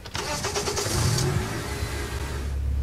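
A Ford Maverick pickup truck engine in a Roblox game cranks and catches, then settles into a low, steady rumble with a brief rev, close and fairly loud, with no talking.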